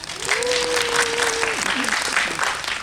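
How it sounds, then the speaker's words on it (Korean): A theater audience at a film talk event claps in a dense, steady round of applause while a voice briefly speaks or calls out over it. "여러분이 큰 박수 주시면요"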